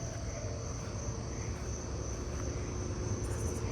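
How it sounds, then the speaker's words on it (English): Narrow-winged tree crickets trill in a steady, continuous night chorus of insects, a high sustained buzz running unbroken throughout with no voices. "And I'm hearing narrow wings. Tree crickets."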